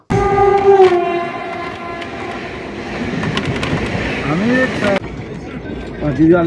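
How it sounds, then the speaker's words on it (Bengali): A MEMU train at Asansol railway station sounds its horn in long tonal blasts over the rolling clatter of wheels, loud and near, with platform bustle and a sudden cut near the end. "আসানসোল থেকে আমরা আদ্যাগামী একটি ট্রেন ধরবো, মেমু ট্রেন।"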